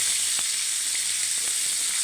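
Fish fries in hot oil in a pan, giving an even, close hiss of sizzling with scattered faint pops and no voices.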